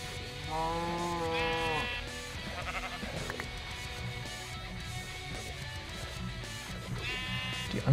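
Sheep in the video game Minecraft bleat in a few separate calls, one long wavering bleat near the start and another near the end, over quiet game background sounds.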